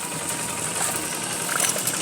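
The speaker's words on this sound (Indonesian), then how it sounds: "di sebelah sana itu lagi ada traktor" A tractor engine drones steadily throughout, a constant rattling hum with no speech, idling at some distance in a field in a Sundanese village.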